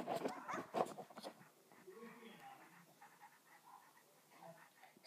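Virtual dog panting in the Nintendogs video game, a quick run of breathy pants near the start that fades into softer game sounds and quiet background noise.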